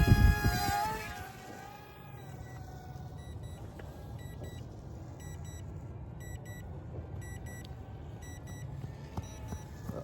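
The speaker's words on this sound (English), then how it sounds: "Uh-oh, it's beeping." A Cessna 182 model RC airplane emits a faint, steady series of short, high electronic beeps, evenly spaced about once a second, over a constant outdoor rumble with a louder burst of noise at the very start.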